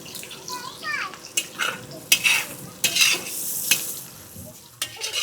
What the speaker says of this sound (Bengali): আমি ব্রেস্তার জন্য পেঁয়াজগুলো ভেজে নেব।